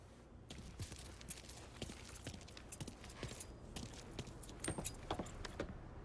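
Car keys jangle in the Mafia 3 video game, a series of quiet, sharp metallic clinks and rattles in irregular bursts over a low background hum.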